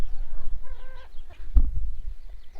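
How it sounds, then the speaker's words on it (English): A mean farm rooster gives a few harsh, throaty calls early on, followed by a dull thump and low rustling nearby, with no talking. "That is our resident mean rooster."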